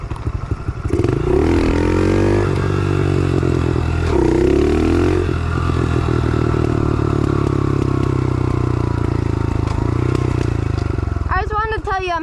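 A 110 pit bike motorcycle engine runs loud and close throughout the ride, its revs climbing and dropping in repeated surges with some rattling clatter.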